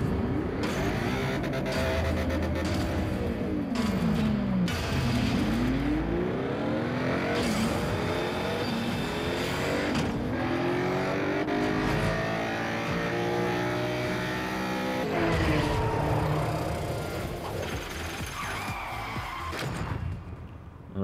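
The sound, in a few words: racing cars in the video game Asphalt StreetStorm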